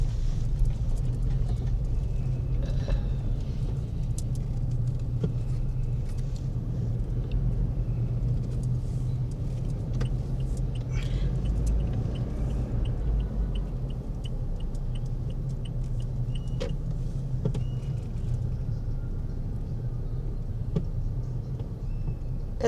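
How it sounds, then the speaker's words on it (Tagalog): Traffic on MacArthur Highway in the Philippines, a continuous low rumble of passing cars with faint ticks and distant clatter and no talking. "Ito ay MacArthur Highway."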